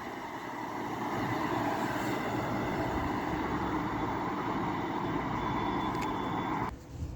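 A train thunders past at speed on the West Coast Main Line at Cheadle Hulme, a loud, steady roar of wheels and rails filling the whole stretch before cutting off abruptly near the end.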